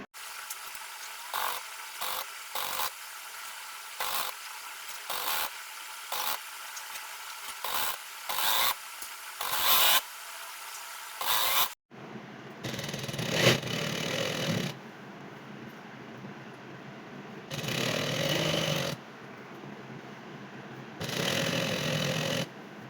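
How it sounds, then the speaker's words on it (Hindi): Sewing machine stitching a folded fabric casing for elastic, running in short rapid bursts with pauses between them, then in longer buzzing runs, close and fairly loud. "अब ऐसे ही पूरा नेफ़ा मैं मोड़ूंगी और यहाँ पर सिलाई लगाती जाऊँगी"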